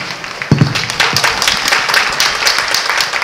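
Applause from an audience at a 2024 anniversary ceremony: a dense, continuous wash of many hands clapping, swelling after a half-second and holding steady and fairly loud to the end.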